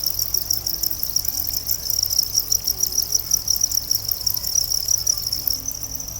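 Adult crickets kept in a breeding setup chirp in a dense, continuous high trill. It is close and steady, over a low background hum.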